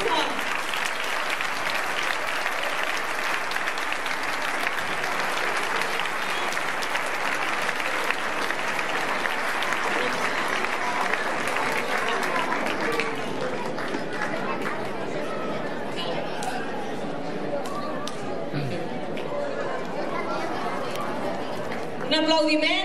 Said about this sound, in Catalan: Un aplaudiment molt fort.